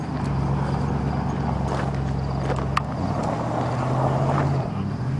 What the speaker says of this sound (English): Just fires right up after 3 months.